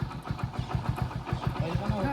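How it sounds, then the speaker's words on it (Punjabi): A motorcycle engine starting and warming up, a steady pulsing idle with regular throbbing beats, fairly close and continuous. "ਚੱਲ ਅੱਗੇ ਮੋਟਰਸਾਈਕਲ ਗਰਮ ਹੋ ਜਾ"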